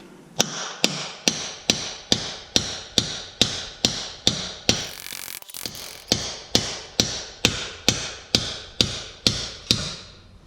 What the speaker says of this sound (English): You're gonna need an actual 3-pound sledge.